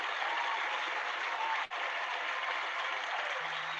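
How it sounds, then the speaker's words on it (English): Dense, steady applause fills the air, with a brief cut in the middle before the clapping continues just as loudly. "I got to get the applause for this one here"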